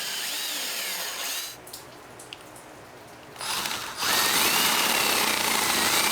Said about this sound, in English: I pre-drilled all the holes before attaching the knobs.